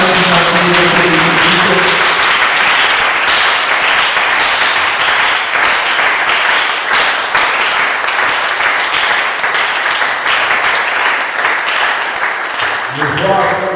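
A church congregation applauding during a worship service, sustained loud clapping that fills the whole stretch, with a voice and some music faintly underneath near the start and end.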